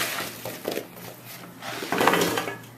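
Spiced sweet potato chunks tumbling into a baking pan for the toaster oven, a few soft scraping clatters and thuds close up, heaviest near the end, with no talk.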